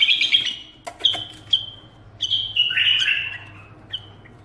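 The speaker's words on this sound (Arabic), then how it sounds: "هذا عندنا بلبل ثاني هم نفس الحالة" A pet bulbul kept at home gives a run of bright chirps and short warbled calls, close and clear, in separate bursts with a low steady hum behind and no talk.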